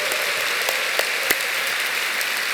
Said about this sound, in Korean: 멀리서 오신 분들 위해서 박수 한번 치겠습니다